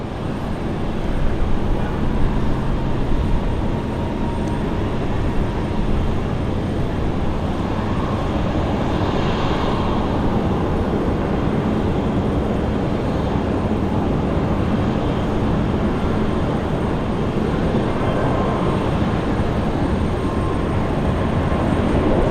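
Airbus A321 airliner taking off for Auckland at Brisbane International Airport, a broad, sustained engine roar heard from a distance that stays steady throughout, with no talk.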